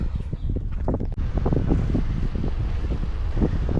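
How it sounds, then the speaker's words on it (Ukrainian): Strong gusting wind buffeting the microphone with a continuous low rumble, loud and unbroken throughout. "Ох, вітер який."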